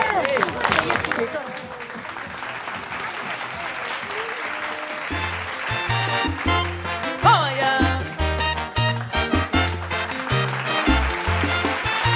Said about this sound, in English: our warm, warm applause for Tita Malin Veluz